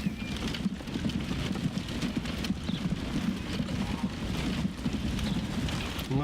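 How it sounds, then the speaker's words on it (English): Horses clip-clopping steadily as they haul a passenger carriage along a road in the Transport Fever simulation game, a busy continuous rhythm of hooves over low rumbling, with no talk. "Watch them horses go."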